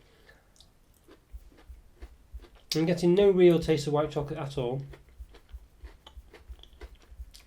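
Someone chews crunchy Cadbury Dairy Milk Coconutty chocolate with a biscuity crunch, making soft close crunching ticks before and after a stretch of talking.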